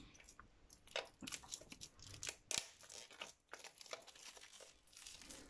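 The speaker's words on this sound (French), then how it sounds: "on va essayer d'ouvrir le blister" Plastic blister packaging around a Lenormand card deck being cut and torn open, with crinkling, crunching and snipping sounds coming in irregular bursts close by and fairly quiet, no talking.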